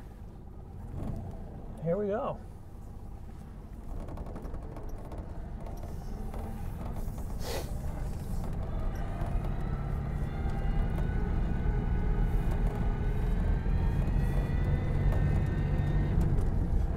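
Cabin of a Citroën 2CV, a quirky little car with gapped windows, pulling away in first gear: a steady droning engine and road rumble builds and holds, with a gear change early on and people talking over it.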